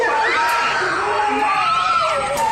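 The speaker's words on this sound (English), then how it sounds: "everyone starts screaming as they see this ghastly female creature" Several people scream in horror as a ghastly female creature with black hair and greenish skin appears nearby, their overlapping high, wavering cries sustained and close, with shouting voices mixed in.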